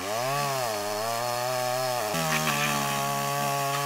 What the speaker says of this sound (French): Veux-tu la tronçonneuse?